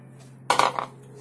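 Someone starts stirring yeast and salt into flour in a bowl, making a brief cluster of three or four close metallic clinks and scrapes against the bowl, with near silence around them.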